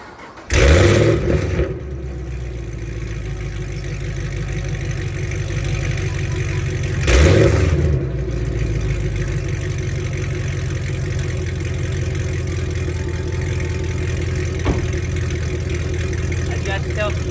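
Chevrolet Camaro SS V8 with an X-pipe exhaust and valves open, a loud steady idle rumble broken by two sharp revs early on, heard close with talk over it.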